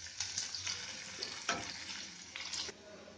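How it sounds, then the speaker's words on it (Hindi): Steady sizzling and crackling of onions frying in a pan until light brown, with a few louder stirring scrapes; no talking. "हम प्याज को हल्का भून लेंगे, इसको लाइट ब्राउन ही रखना है"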